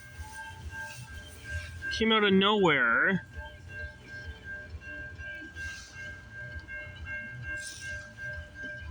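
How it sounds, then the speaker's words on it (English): A CN westbound freight train approaches on a rainy day at Stewarttown, milepost 26.63. Its horn sounds one loud blast of about a second, followed by a steady rumbling approach, while someone talks over it. "we got a CN westbound train coming down the line."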